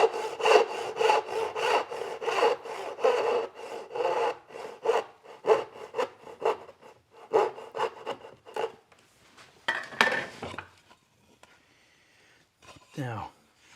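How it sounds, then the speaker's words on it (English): Hand saw cutting splayed dovetails in wood, a steady rhythm of rasping back-and-forth strokes, close and fairly loud, slowing and stopping toward the end; a voice speaks over the sawing. "when you set your saw in there, you can lean it right up against that wall and make a nice plumb cut"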